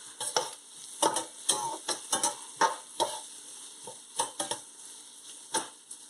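Garlic frying in a pan with a steady background sizzle, overlaid by a series of sharp, rhythmic stirring scrapes and clicks of a utensil against the pan, close and moderately loud, with no talking.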